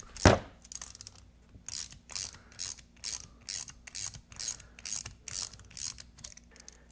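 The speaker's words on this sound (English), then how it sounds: "So I got this bolt that's got a 10 millimeter head on it, and we're actually going to thread this in this way" A 10 millimeter bolt being threaded in with a ratchet: a sharp initial clank, then a steady series of about a dozen quick ratcheting clicks in short bursts, close and fairly quiet.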